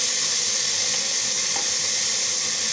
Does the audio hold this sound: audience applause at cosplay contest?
no